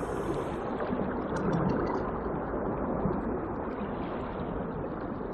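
Steady rushing, bubbling hiss of an alien exhaust vent underwater in Subnautica, a continuous broadband whoosh holding constant for several seconds with no talk over it.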